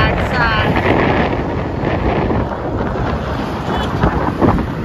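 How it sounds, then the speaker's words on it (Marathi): Wind roars past the microphone while riding on a road toward a village, a loud, constant buffeting rush that covers the whole stretch, with faint voices mixed in. "एवढी हवा येते ना"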